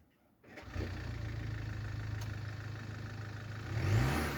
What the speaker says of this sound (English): A random car stopping in front of me.